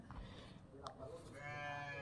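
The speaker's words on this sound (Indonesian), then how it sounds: "Oh, kambing rupanya." A goat bleats briefly, set against steady background chatter and ambient noise.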